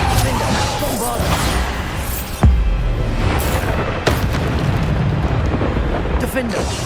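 Bombarda spell blasts in Hogwarts Legacy, a dense run of booming explosive bursts over continuous rumbling combat, with a sharp loud impact near the middle; talk runs underneath.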